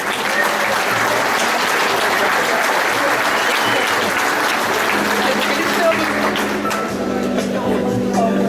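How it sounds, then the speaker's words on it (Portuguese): An audience at a lecture on urban mobility legislation claps loudly and steadily for several seconds, the applause dense and close, with a few voices murmuring underneath. "Uma salva de palmas, pessoal."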